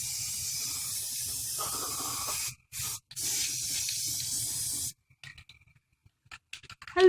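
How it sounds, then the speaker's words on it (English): Steady hissing of an aerosol spray can painting the inside of an object, a continuous close spray broken by a brief pause, then stopping, followed by faint handling noises. "And you have to spray in the inside so that you won't see the pink."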